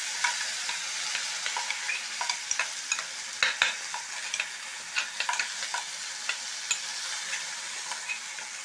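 Ground curry leaf paste fries in a pan while being stirred, a steady close sizzle broken by frequent scraping stirs against the metal, with no talk.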